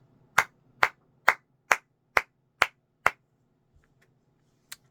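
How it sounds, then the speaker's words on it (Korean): A person claps seven sharp, evenly spaced times, close and crisp, then pauses before one last clap. No one speaks. "수고했다고 박수 한번 쳐드리겠습니다."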